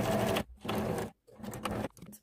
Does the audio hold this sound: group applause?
no